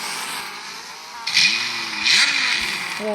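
Car engine starting in the Drive World video game: a starter whine, then a catch and rising rev with crackling exhaust pops, a second rev burst, then another start; a brief exclamation from a voice.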